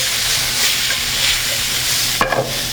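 Garlic and shrimp sizzling in a pan, a steady loud frying hiss throughout with a brief stir or scrape near the end, no talking.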